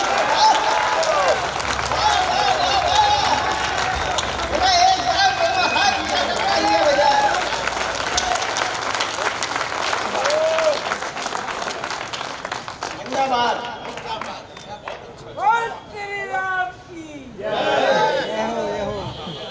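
An audience applauds after a Hindi poem recital at a youth council gathering in Vidisha. The clapping and crowd chatter run steadily for most of the stretch under a loud voice, then thin out into scattered cheers and calls near the end.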